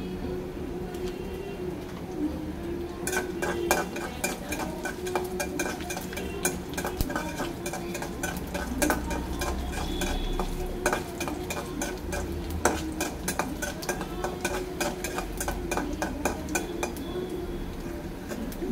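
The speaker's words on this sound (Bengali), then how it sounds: "পোস্তটা হালকা ভাজা হলে আমি শাকটা দিয়ে দেবো।" Poppy seeds fry lightly in a pan for a leafy greens dish, with a steady soft sizzle, repeated metal spoon scraping and stirring, and birds chirping faintly in the background.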